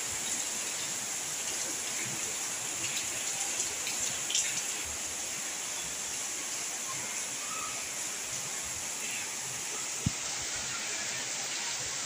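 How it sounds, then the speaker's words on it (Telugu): Heavy rain falls on a village in a steady, dense hiss that stays constant throughout, with a faint distant crow cawing and a single sharp knock near the end. "ఫుల్ వర్షం అన్నమాట మా ఊర్లో."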